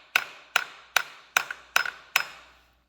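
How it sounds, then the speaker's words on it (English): Six light, evenly spaced hammer taps ring out close by, each a sharp metallic knock with a brief ring, then silence. "Get a little tap with the hammer."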